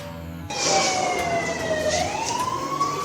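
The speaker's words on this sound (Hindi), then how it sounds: "सायरन की गूंज कई किलोमीटर दूर तक सुनाई दी।" A loud air raid warning siren during a mock drill starts abruptly, holds a steady rising-and-falling tone over constant noise, then climbs in pitch toward the end.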